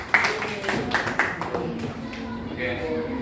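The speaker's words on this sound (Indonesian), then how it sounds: "Beri tepuk tangan untuk kelompok 2." A primary classroom bursts into short, scattered clapping for a group of pupils, the applause light and uneven and mixed with children's chatter and a teacher's voice throughout.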